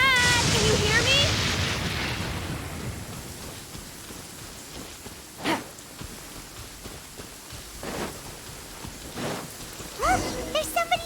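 Steady rain falls in a Genshin Impact game scene, a broad even hiss with a few louder splashy swells and brief tonal game sounds at the start and end, no talking.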